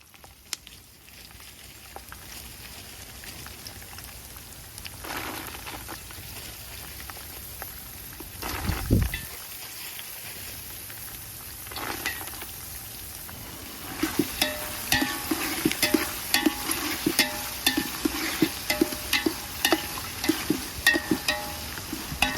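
Chana dal fries in a pan and gets stirred, starting as a faint low sizzle with a few soft knocks, then turning into a louder crackle with rapid, uneven scraping and clatter toward the end.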